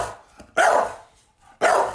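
A pet dog at home barks twice, each bark loud and close, separated by about a second of quiet.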